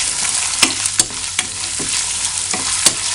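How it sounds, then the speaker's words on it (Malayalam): Julienned ginger and garlic sizzle and fry in coconut oil for a squid roast, with steady crackling broken by several sharp scrapes of a spoon stirring the pan, close and loud, with no voices. "അതിനുശേഷം ഇഞ്ചി വെളുത്തുള്ളി നീളത്തിൽ അരിഞ്ഞത് ഇട്ട് കൊടുക്കാം."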